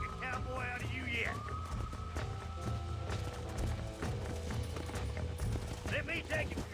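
Horse hooves in Red Dead Redemption, a steady rhythmic clip-clop of riding mixed into a busy bed of ambient game sound and music, with voices talking over it.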